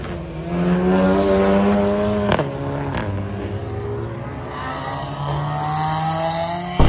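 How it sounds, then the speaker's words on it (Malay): A bumperless drag racing car idles and revs with a rough, steady engine drone, two sharp blips cutting in midway, holding close and fairly loud throughout with no talk over it. "Memang kereta drag tu."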